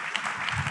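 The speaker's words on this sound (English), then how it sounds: "Clap for him." Brief burst of audience clapping in a church service with a prophet preaching, a dense steady patter of hands at moderate level with a faint voice underneath.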